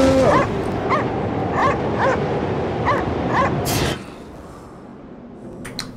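In the video game Cryostasis, a dog barks and yips repeatedly in a quick, uneven series over a loud noisy background, then the sound drops away to quiet.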